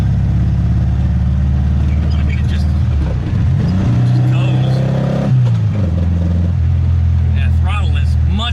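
A 1974 VW Beetle with a freshly cleaned Solex carburetor drives on a test run. Its engine hums loud and close, with revs climbing and easing as it moves.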